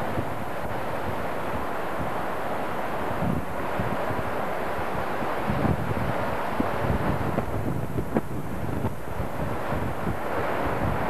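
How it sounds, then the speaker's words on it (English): Gusty wind buffets an outdoor microphone near Bow Falls in Banff, a continuous loud low rumble with stronger gusts rising and falling throughout, no voices. "Bit windy."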